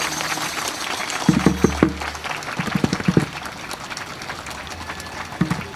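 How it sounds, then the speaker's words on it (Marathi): Audience members at a Champashashthi kirtan in Bavdhan, Pune, break into several scattered bursts of clapping, rising and fading over a low background murmur. "अशा कडकड कडकड कडकड टाळ्या वाजवा, अशा वाजवा, वरचे सगळे वाजवा मोठ्याने अशा टाळ्या"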